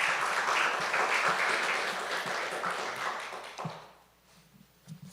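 An audience at a city State of the City address in Livingston gives the mayor a round of applause. Sustained, moderately loud clapping thins out and fades to scattered claps near the end.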